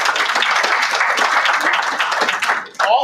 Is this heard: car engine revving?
no